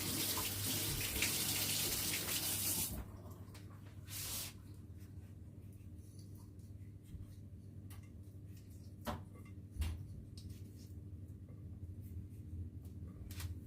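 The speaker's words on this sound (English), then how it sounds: "I'm just gonna wash my hands" Running tap water hisses steadily into a sink for the first few seconds, then cuts off, leaving a faint room hum broken by small clicks and splashes while hands are washed.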